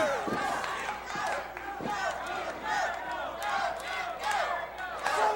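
Wrestling fans at a Mid South Wrestling match yell and chant together, a dense crowd roar of shouting voices rising and falling in waves, heard from within the arena.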